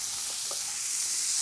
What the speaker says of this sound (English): So once you've got your patties, pop them in a pan,